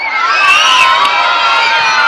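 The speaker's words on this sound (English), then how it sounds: "can I hear a massive scream if you're coming to watch Aladdin?" Crowd of children and adults screaming and cheering at the Skegness Christmas light switch-on in 2017, a loud, sustained, high-pitched roar that swells and holds without a break.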